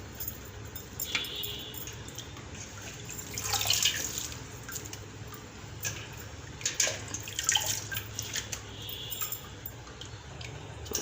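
Fresh palak spinach leaves being rinsed in water by hand, with soft sloshing, dripping and splashing that swell and fade in bursts over a quiet kitchen background, no one speaking.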